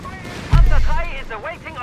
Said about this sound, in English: Grant continue to lay down a heavy fusillade there of death